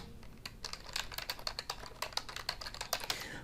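Rapid typing on a computer keyboard, close and crisp, with irregular bursts of key clicks running the whole time and no voice.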